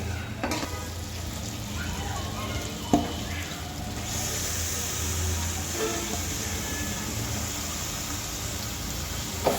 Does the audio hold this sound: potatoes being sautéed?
yes